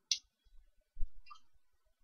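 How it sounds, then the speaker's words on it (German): A computer mouse clicks while working in CATIA V5 software, giving a few sharp, quiet clicks at close range against near silence, with a faint soft thump in between. "Wir klicken die Funktion mal an."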